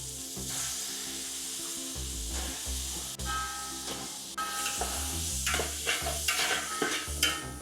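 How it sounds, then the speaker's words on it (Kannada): Half a kilo of hyacinth beans sizzling in hot oil in a pan while being stirred for a menthya palav, a steady close hiss with intermittent scraping and clinks from the stirring. "ಸ್ವಲ್ಪ ಆಯಿಲ್ ಅಲ್ಲಿ ಫ್ರೈ ಆದ್ರೆ ಆ ಹಸ್ಕು ಹಸ್ನೆಲ್ಲ ಹೋಗ್ಬಿಡುತ್ತೆ"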